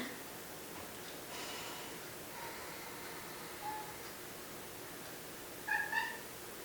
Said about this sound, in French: J'avais presque oublié mon chat.